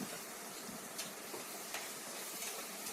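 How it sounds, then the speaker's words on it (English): Tomato puree sizzling in a pan of frying ginger garlic paste, a steady dense hiss with a few faint scrapes and clinks, continuous and close. "Adding tomato puree to the ginger garlic paste."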